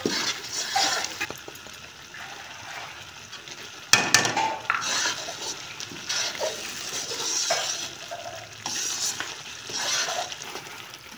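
Spoon stirring besan into semolina halwa in a pot, a steady close scraping and swishing over a soft sizzle, with a sharper clatter of the spoon against the pot about a third of the way through.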